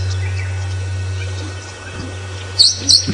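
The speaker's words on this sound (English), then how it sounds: "That metallic sort of squeak." A Meyer's parrot on an early-morning African safari drive gives two short, high metallic squeaks close together near the end, over a steady low engine hum.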